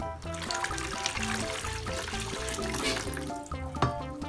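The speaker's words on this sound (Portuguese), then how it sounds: "Eu vou colocar a água agora." Water pours steadily into a baby bathtub being filled for a bath, a continuous trickling splash that stays close and fairly even throughout, with other steady sound running underneath.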